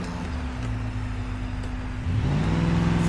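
A Crown Vic in a racing game on a proving grounds circuit hums along with a steady engine drone, then the revs step up and the engine note turns louder and higher for the final second.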